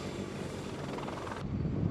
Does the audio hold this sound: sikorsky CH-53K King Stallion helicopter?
yes